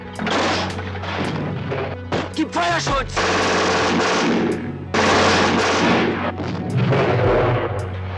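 Gunfire in a battle, dense bursts of loud rifle and machine-gun shots with heavy booms, continuous and close, under a dramatic voice.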